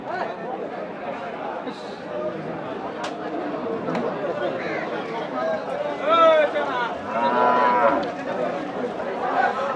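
Cattle low and moo several times at moderate distance over a busy outdoor background of people chattering at a cattle market in Nilphamari, Bangladesh.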